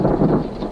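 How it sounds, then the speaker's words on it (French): Thunder from a storm breaking over the Kalahari rolls out in one short, dense rumble mixed with the hiss of rain, loud and close. "quand les nuages se décident enfin à crever, on a l'impression que le ciel tout entier va exploser"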